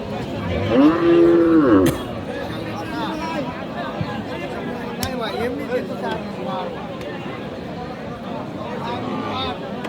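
At a busy cattle market, a cow gives one loud drawn-out moo close by, set against crowd chatter and traders' voices that continue throughout.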